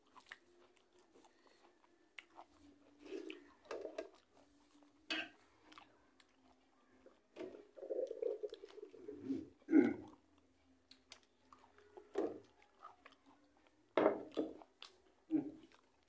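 Crunchy onion pakora is bitten and chewed close to the mic, several sharp crisp crunches separated by quiet pauses, with faint brief voice.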